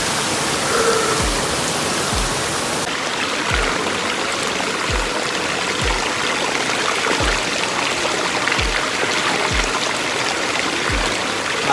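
Cold spring water flows steadily on a hillside trail, a close, continuous rushing trickle with soft low thumps recurring at a regular pace beneath it.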